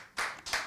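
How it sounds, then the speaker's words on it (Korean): An audience at a Bible lecture claps twice, two short, sharp bursts in quick succession, close and fairly soft. "우리 사라한테 박수 한번 쳐주죠."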